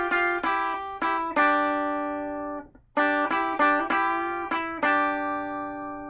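An electric guitar plays the lead section of a song, with sharp plucked notes in bursts, a long sustained note ringing out, a brief pause, then more quick picked notes.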